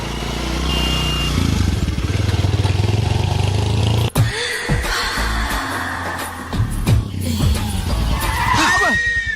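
A vehicle braking suddenly produces a loud tire skid over engine noise, with a sharp impact-like crack partway through and further scraping and squeals afterward.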